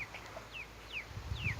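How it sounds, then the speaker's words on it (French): Three laying hens on a small poultry farm make a few faint, soft, rising clucking calls in the background, quiet and spaced out, with no talking. "Ensuite on a mes trois poules pondeuses, donc celles-là."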